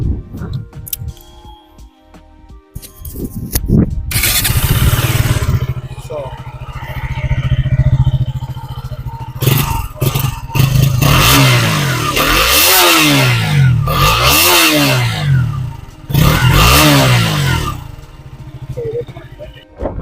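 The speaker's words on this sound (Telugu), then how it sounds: "మనం ఒకసారి బైక్ ఎగ్జాస్ట్ నోట్ కూడా ఒకసారి విందాం" A KTM RC 200 sports motorcycle engine idles and then revs hard several times, the exhaust roaring up and dropping back, loud and close.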